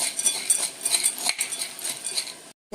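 Chana dal is stirred with a metal spoon, giving a steady run of light clinks and scrapes against the vessel, close and fairly quiet, ending in a brief silence.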